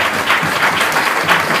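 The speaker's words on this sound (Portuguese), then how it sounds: "Que uma salva de palmas ao Felipe." Audience applause at a Brazilian startup event, dense steady clapping from a crowd filling the whole moment without talk.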